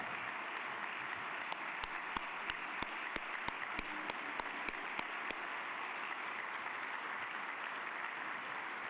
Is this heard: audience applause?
yes